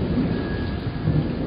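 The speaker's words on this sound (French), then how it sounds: "la pluie commence à tomber sur la rivière" Heavy rain pours onto a river with a rumble of thunder underneath, a dense continuous hiss and patter, loud and close, with no voices.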